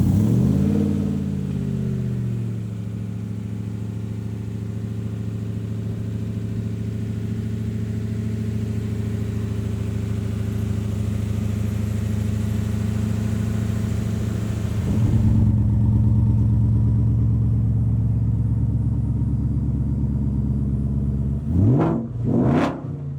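A 1965 Shelby Cobra Backdraft with a Ford Coyote V8 rumbles loud and close, settling into a steady idle after an opening rev, then builds again with a throttle blip and a couple of sharp revs near the end.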